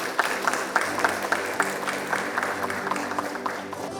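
Audience at a corporate ESG award ceremony applauds steadily, with close claps standing out over a broad crowd clapping and some faint voices mixed in.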